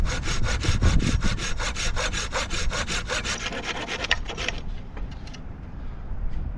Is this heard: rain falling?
no